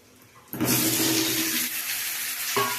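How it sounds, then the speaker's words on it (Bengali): Dry red chillies, bay leaf and five-spice (panch phoron) hit hot oil in a wok while mango pickle is being made, setting off a sudden loud sizzle that holds steady for a couple of seconds. "কড়াতে আমি কয়েকটা শুকনো লঙ্কা, একটু তেজপাতা আর একটু 5 ফোড়ন দিয়েছি, দিয়ে এটাকে একটু ভেজে নেব।"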